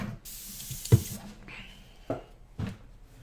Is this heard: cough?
no